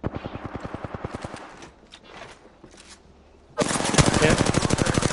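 Rapid automatic gunfire in the video game Apex Legends rings out as a steady stream of close, evenly spaced shots, dropping off before a louder, denser burst of fire returns.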